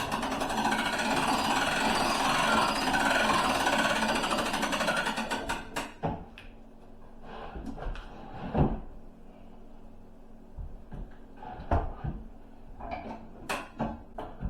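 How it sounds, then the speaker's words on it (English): Cabinetizer cabinet lift being cranked up to raise a cabinet into position, a steady loud mechanical grinding for about five seconds, then scattered clicks, knocks and creaks. "We're going to go ahead and crank it up into position."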